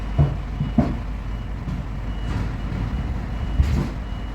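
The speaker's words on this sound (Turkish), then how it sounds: "Şimdi ufak düzeltme manevralarıyla geriye doğru geliyoruz." Semi truck with trailer backing toward a loading ramp in small corrective maneuvers, a steady low diesel rumble with a few short reversing beeps and a brief air-brake hiss, no talking.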